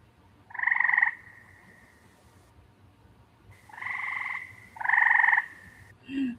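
Frog croaks in three separate drawn-out bursts, each a buzzing, tonal call, spaced apart by quiet gaps and followed by a brief faint squeak at the end; no talking.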